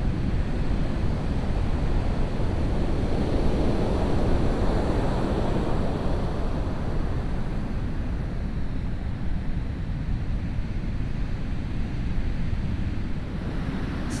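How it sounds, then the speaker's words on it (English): Surf breaking on Portuguese Beach along the Sonoma Coast, a steady broad wash of waves heard from nearby with wind noise buffeting the microphone throughout. "now you can see the waves up close as you approach the water"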